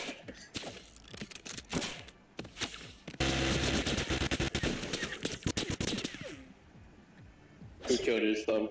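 Video game gunfire in rapid automatic bursts, loud and close, alternating with short pauses, with players talking over the shooting.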